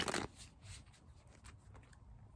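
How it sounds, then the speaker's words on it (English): A tarot card deck is shuffled by hand, a brief burst of riffling at the start followed by soft, faint card taps and rustles in a quiet room. "I'm going to shuffle it once again."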